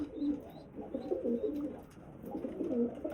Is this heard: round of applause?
no